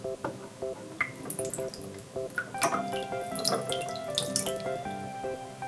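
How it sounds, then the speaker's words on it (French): Orbeez water beads are poured into a Peppa Pig toy pool, giving a close run of wet patters, drips and small splashes that builds into a steady trickling clatter. "je pense que nous devrions ajouter des Orbeez pour plus de plaisir dans la piscine"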